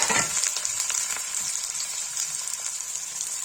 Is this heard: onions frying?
yes